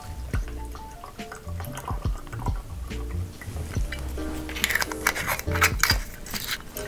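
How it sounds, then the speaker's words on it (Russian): Jim Beam bourbon is poured into a glass, with liquid trickling and splashing, glassy clinks and small dripping sounds close up, and no talk. "Так, в середину мы наливаем Jim Beam."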